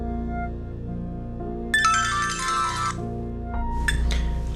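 A telephone rings indoors, one loud electronic ring burst followed by the start of a second, against a quiet room hum with no talk.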